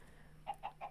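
A chicken in modded Minecraft gives three quick, evenly spaced clucks, faint and close together over a quiet background hum.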